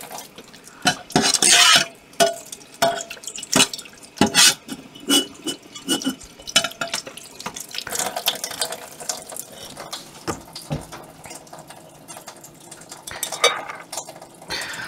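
Metal antique accent lamp parts clatter and clink while being rinsed in water, with irregular sharp knocks and splashy handling sounds close by, busiest early on and then settling into softer sloshing and scraping.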